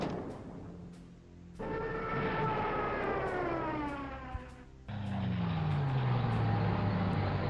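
A Stuka dive bomber's siren sounds in a World War II tactical strategy game. It comes as two loud wailing passes, each sliding steadily downward in pitch, over engine rumble with no voices.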